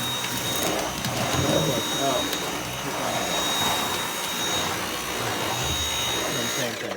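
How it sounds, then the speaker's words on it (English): Dyson V8 Absolute cordless stick vacuum running steadily on carpet, a loud continuous whirring motor drone held at constant level throughout, with a person talking briefly over it. "you can get an idea for how loud it is"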